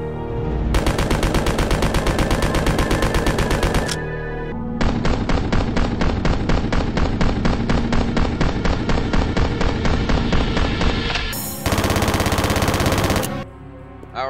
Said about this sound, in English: let's fire them off with my usual style for machine guns